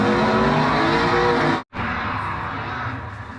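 A race car at high speed on a Nürburgring lap, a loud sustained engine roar with a brief sharp cutout midway before the drone resumes.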